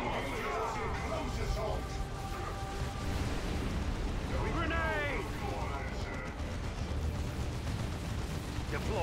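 A Melta Bomb detonates in Dawn of War 2's Wrath of the Blood Ravens mod, a loud roaring blast buried in a constant wash of battle noise and rumbling explosions that never lets up.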